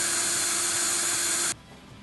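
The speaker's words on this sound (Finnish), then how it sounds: "imuletön reijälle, joka porataan 51 mm kuppiterällä" A 51 mm hole saw drills steadily through material while installing a Wallas cottage stove, a loud continuous whine that cuts off abruptly near the end, leaving quiet.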